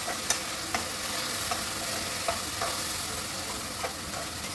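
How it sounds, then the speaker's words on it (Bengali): Chopped cooked chicken is stirred into vegetable egg noodles frying in a pan. A steady sizzle runs throughout, with regular scraping and tapping strokes from the stirring utensil. It is close and fairly loud, with no speech. "সেখান থেকে কয়েক টুকরা চিকেনে ছোটো পিস করে কেটে নিয়েছি সেটা অ্যাড করে দিলাম দিয়ে মিশিয়ে নিচ্ছি"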